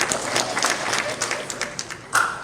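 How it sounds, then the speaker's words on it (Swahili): Moderate audience applause at an outdoor community show, a textured patter of many hands that thins and swells, with a brief voice and some louder individual claps near the end. "Kazi yetu ni kupiga makofi na kufurahia."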